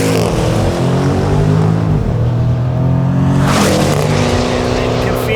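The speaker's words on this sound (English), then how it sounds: "Let's rev it out here again," A 2024 Jaguar F-Pace SVR's V8 revs at full throttle, a loud, steady engine roar with layered tones that dip and then climb again as the revs rise near the end.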